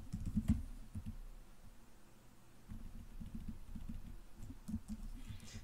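Soft, irregular keystrokes patter on a computer keyboard as code is typed, quiet and close, with a low background rumble and no voices.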